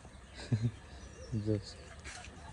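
A dove near a sapodilla tree gives two soft, low coos about a second apart, fairly close but quiet against a faint background hiss.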